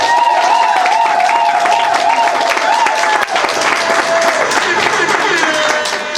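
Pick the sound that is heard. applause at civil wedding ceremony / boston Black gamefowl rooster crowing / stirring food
applause at civil wedding ceremony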